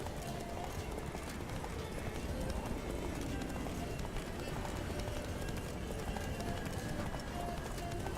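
Horse galloping in The Witcher 3 video game, a steady, fast clip-clop of hooves running continuously at a moderate, even level, with faint voices under it.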